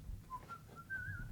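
A person whistles a short, faint rising tune of a few sustained notes over a low background hum.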